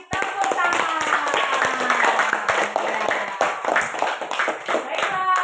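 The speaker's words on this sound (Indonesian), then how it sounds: "Bagus, kita kasih tepuk tangan." Pupils in a fourth-grade primary school classroom clap together in quick, sharp, fairly rhythmic hand claps, close and lively, with voices mixed in among them.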